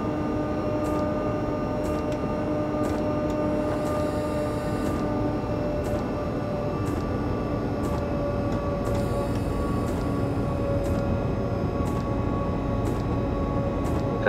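A South African Class 6E1 electric locomotive runs steadily in Train Simulator 2015, giving a constant motor hum and rumble with periodic rhythmic clicks from wheels over rail joints.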